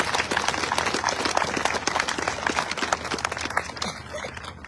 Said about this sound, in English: Let's give one more round of applause for Floyd Semenko.